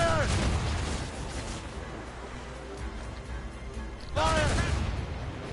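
Naval cannons fire in the video game Assassin's Creed Rogue: two heavy, booming volleys a few seconds apart, each mixed with loud shouted voices, over constant battle rumble.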